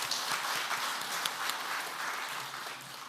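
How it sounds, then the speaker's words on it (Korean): Church men's fellowship prayer meeting congregation giving thankful applause to the pastor, dense continuous clapping throughout. "말씀을 전해주신 목사님께 감사 박수 드리겠습니다."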